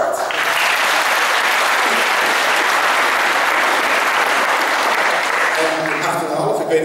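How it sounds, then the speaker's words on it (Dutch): Sustained, loud applause from an audience at a VWO diploma ceremony at Hoeksch Lyceum, a dense steady clapping that fills nearly seven seconds before thinning out at the end. "Dus een applaus waard."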